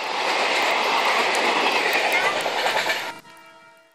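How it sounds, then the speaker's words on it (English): A freight train passes close and loud with a dense, steady rumble and clattering wheels, ending in an abrupt drop to a fading, ringing tail after about three seconds. "Scary freight train."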